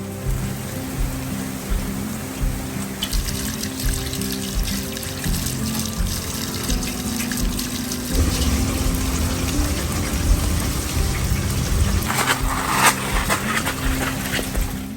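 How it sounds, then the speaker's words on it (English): Steady rain patters and trickles nearby, growing heavier partway through, with a constant low hum beneath. "with the sunshine comes the rain"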